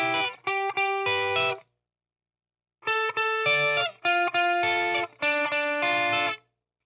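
Electric guitar played through a blues drive overdrive pedal, sounding crunchy and saturated in a rough tone; three loud strummed phrases of sustained chords are separated by a short silence, with nothing else present.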